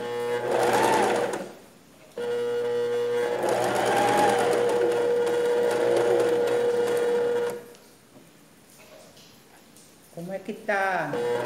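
Domestic sewing machine stitching patchwork fabric strips, running in two loud, steady bursts with a pause between, then stopping, followed by brief handling clicks nearby.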